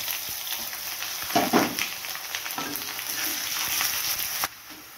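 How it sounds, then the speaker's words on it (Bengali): Onion frying in a pan with cumin and ginger while making fish head dal: a continuous close sizzle with occasional stirring scrapes, cutting off sharply near the end. "পেঁয়াজটা আমার একটু লাল লাল হয়ে গেছে ভাজা"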